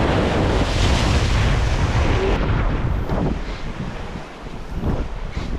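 Large waves crash against rocks at the water's edge, a loud continuous roar and wash heavily buffeted by wind on the microphone, surging again after a brief dip.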